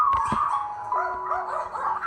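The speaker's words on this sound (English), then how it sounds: "This is the life of a puppy mill dog." Dogs at a puppy mill whimper and yip, a couple of sharp yelps at the start followed by high, wavering whines and cries, close and fairly loud with no speech.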